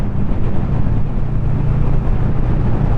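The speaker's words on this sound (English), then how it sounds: "Ooh, it's so windy." Gusty wind batters a motorcyclist riding at about 30 mph, a dense, loud, low roaring buffet with constant fluttering rumble and no break.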